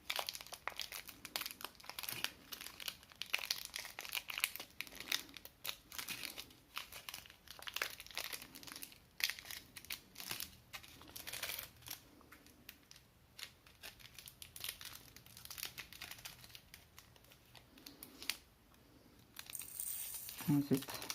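Diamond painting bead packets being torn open and handled, giving continuous crinkling and tearing plastic rustles close up, with a person speaking quietly throughout.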